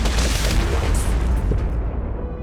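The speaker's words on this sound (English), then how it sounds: "now we can just start shooting our cob cannons" Deep booming blasts from cob cannons firing in Plants vs. Zombies: Replanted, heavy low thuds layered over each other, loud and close, with a thin pop near the middle before the rumble fades.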